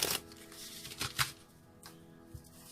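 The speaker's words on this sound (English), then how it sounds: "One more shuffle," A deck of tarot cards being shuffled, giving a few soft riffling bursts and flutters close by, with quiet pauses between them and no talking.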